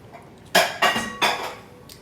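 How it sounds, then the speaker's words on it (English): Three sharp ceramic clatters in quick succession as a bowl is pulled out and set down in a kitchen, fairly close and loud against a quiet background. "Getting a bowl to put everything in."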